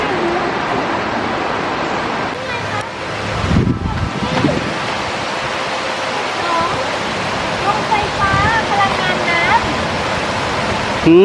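Steady broadband rush of Mae Piak waterfall in Chae Son National Park, Thailand, heard beside a nature trail, continuous and fairly loud, with brief voices and faint birdsong over it.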